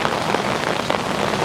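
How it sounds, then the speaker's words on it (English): Heavy rain pouring onto a street in Ximending, Taipei, a dense close patter of drops hitting the pavement, loud and continuous with no talking. "I shouldn't stay out here too long because it's raining pretty hard."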